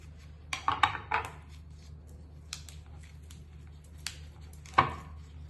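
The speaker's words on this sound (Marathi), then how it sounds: "उलटा करून याची शीर जी आहे ती कापून घेऊयात आपण" A knife trims the midribs from colocasia (aloo) leaves on a board: a quick cluster of crisp cuts, then a few isolated, quieter slices spaced apart, close and otherwise quiet.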